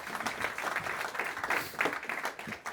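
A conference audience applauds to welcome a speaker onto the stage, with steady, dense clapping from a crowd that holds at an even level throughout.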